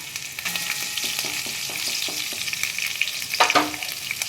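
Chopped ginger, garlic and green chili sizzle in a hot pan, a close, crackly frying hiss with brief stirring scrapes and clicks, building slightly toward the end with no talk.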